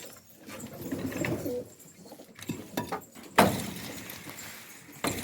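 Pigeons coo softly in a loft amid scattered rustling and knocks, followed by a sharp clatter like a sliding door or cage opening as the birds are released; no one speaks.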